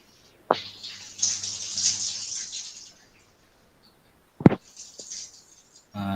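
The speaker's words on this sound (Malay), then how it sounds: "saya dengar bunyi air dekat toilet kamu" Water running near a toilet, a steady hissing rush for a couple of seconds, then a sharp splash or clunk followed by a softer trickle, heard alone and fairly close in a quiet indoor room.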